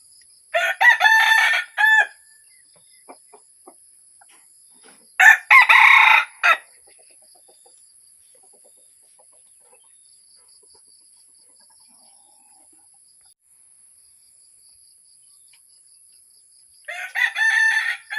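Chickens at a rice field, with a rooster crowing three times in separate loud bursts and quiet stretches of soft clucking and near silence between them.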